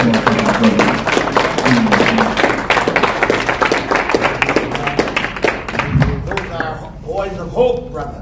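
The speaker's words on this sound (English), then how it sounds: "just give them a little round of applause for my brothers" Audience at a men's Christmas breakfast applauds the young breakfast servers, brisk clapping that fills the room over steady talk and a few thumps before fading near the end.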